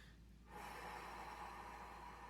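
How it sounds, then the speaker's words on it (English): A slow, deep breath drawn in through the nose during a guided relaxation exercise before sleep, a soft steady airy inhale that starts abruptly and holds at moderate volume, quiet and close. "And so breathing in slowly"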